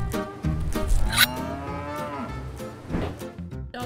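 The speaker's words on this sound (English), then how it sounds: "All the cows are happy and healthy" Cattle on a traditional dairy farm moo loudly and close, with one long drawn-out call and a few shorter lowing sounds.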